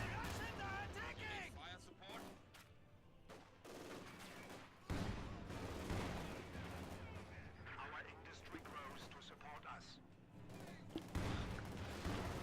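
Soviet troops firing in a Company of Heroes 2 battle: dense bursts of rifle and machine-gun fire with heavier booms, continuous and busy, while a voice talks over the combat.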